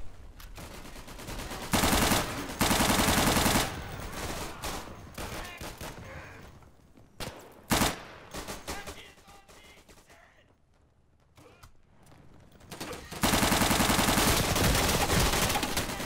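Gunfire in a shooter video game, with loud bursts of automatic fire crashing in and out at close range, separated by quieter stretches of scattered shots.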